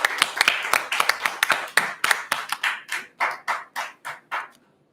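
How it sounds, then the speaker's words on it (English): A church congregation claps, a run of sharp, crisp handclaps in an uneven rhythm that thins out toward the end, with a few people heard among the claps. "Let's get the most out round of applause."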